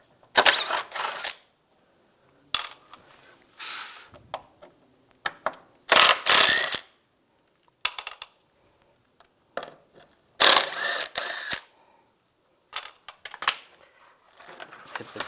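Ratchet on a T30 socket removing the radiator mount screws of a 1999-2005 Volkswagen Jetta, in repeated bursts of rapid clicking separated by quiet pauses, close up.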